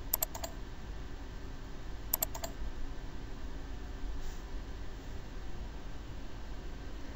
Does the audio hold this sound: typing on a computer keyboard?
yes